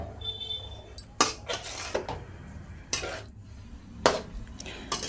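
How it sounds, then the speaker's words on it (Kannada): Cut strips of chapati noodles tossed into tempered seasoning in a pan and stirred, with repeated sharp scrapes and clanks of a spatula against the metal pan over a soft background sizzle, close and without talk. "ನಾ ಈಗ ಕಟ್ ಮಾಡಿಟ್ಟಂಥ ಚಪಾತಿ ನೂಡಲ್ಸ್ ಇದಕ್ಕೆ ಹಾಕೋತೀನಿ ರೀ"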